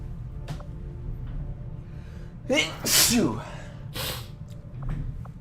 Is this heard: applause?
no